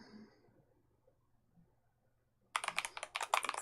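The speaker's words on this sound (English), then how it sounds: "My Bluetooth is typing like a maniac." Fast, frantic typing on a Bluetooth keyboard breaks out after a near-silent stretch, a dense flurry of close, sharp key clicks with no talking.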